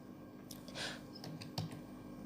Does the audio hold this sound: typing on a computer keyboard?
yes